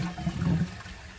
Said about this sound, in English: Again, the flush is very, very short